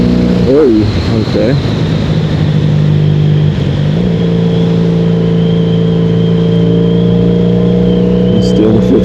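A 1983 Honda Magna V45 750 motorcycle pulls up a hill in high gear, its engine droning loud and close with a steady pitch and a brief rise early on. A rider says a word briefly.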